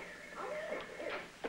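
An owl gives soft hooting calls at close range, several short rising notes that are faint and clear, in a quiet studio setting.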